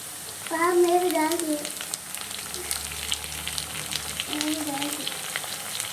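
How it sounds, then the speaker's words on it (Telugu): Tomatoes fry with onions and chilies in a pan for chicken curry, a continuous close sizzle and crackle, with brief voices at two points over the frying. "చూడండి ఎలా ఫ్రై అవుతుందో"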